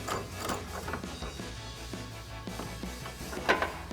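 Tool tightening the end clamp of a Rough Country hard low-profile tri-fold tonneau cover on a 2019 or newer RAM 1500: close, quiet ratcheting clicks and mechanical rattles in a steady run, with a sharper clatter near the end.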